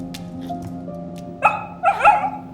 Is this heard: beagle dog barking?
yes